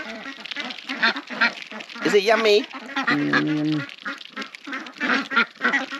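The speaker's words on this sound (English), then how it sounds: "now you make your wish and let the duck fly to the pond now" Ducks quack loudly close by at a pond in Vietnam, their harsh calls breaking through a stretch of continuous talking by people nearby.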